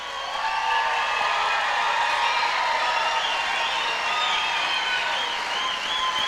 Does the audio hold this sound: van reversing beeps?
no